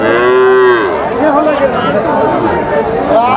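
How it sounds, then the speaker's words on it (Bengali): A Friesian cross cow lets out a loud, drawn-out moo up close, followed by the busy murmur of people talking in a crowded outdoor place, with another low moo at the end. "এটা হচ্ছে ফিজিয়াম গরু।"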